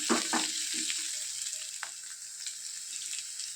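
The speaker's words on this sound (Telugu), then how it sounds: "ఒక మీడియం సైజు ఆనియన్ని ముక్కలుగా కట్ చేసి వేసుకోవాలి ఆనియన్ సాఫ్ట్ అయితే సరిపోతుంది" Chopped onion and green chillies fry in a pan, giving a steady close sizzle, with a few soft stirring scrapes near the start.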